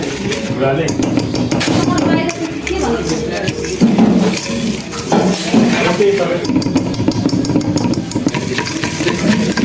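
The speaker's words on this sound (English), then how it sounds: "butter and ice sugar. So I will mix it together." Butter and icing sugar mixed together in a bowl for chocolate cookies, repeated scraping and clinking of a utensil against the bowl in an uneven rhythm, close by, with someone talking over it.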